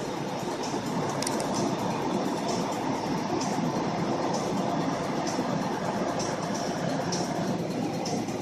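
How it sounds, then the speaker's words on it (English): A tractor-trailer's jake brake engine retarder holds back the truck at night on US15 ahead of a curve, a steady, loud, close diesel drone and rumble with no talking for over eight seconds. "All you gotta do is have your jake brake engine retarder do the rest of the work on this."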